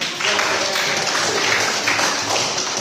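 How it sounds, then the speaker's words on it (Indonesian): Children in a school classroom clap their hands together during a physical education lesson on lifting weights, a dense, steady patter of many small hands filling the room at close range for about three seconds. "Tepuk tangan."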